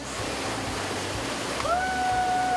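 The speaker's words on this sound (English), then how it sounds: "The last section here on the Swan River that's named the Wild Mile." Whitewater rapids on the Swan River's Wild Mile rush in a steady, broadband roar, with a faint high whistle-like tone joining partway through.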